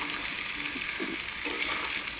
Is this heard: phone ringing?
no